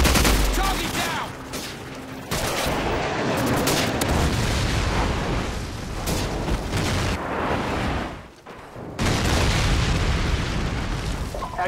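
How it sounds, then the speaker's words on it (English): Airstrike explosions rumble through a Call of Duty 4 team deathmatch on the Pipeline map, a dense, continuous barrage of booms and gunfire with a brief lull before the blasts resume loudly. "Friendly airstrike on the way."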